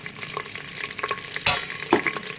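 Onion paste being stirred into chicken handi korma in a clay pot, a close sizzle with scattered scrapes and two louder stirring strokes, no voices.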